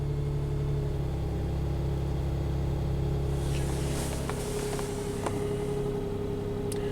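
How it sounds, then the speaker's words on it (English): A Nissan Pathfinder engine runs steadily, then revs up slightly partway through, with a smooth mid-range hum and some light clicks. The engine is close and dominates the clip. "Rev it up a little bit."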